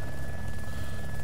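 Bell helicopter in the DayZ Epoch video game, a brief steady loud rotor and engine drone with no pauses.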